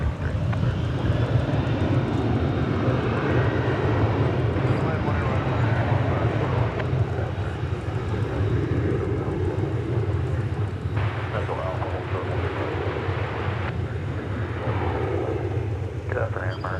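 Jet aircraft at Dallas Fort Worth International Airport produce a loud, continuous engine roar that fills the whole stretch, with wind rumble on the microphone and air traffic control radio chatter underneath.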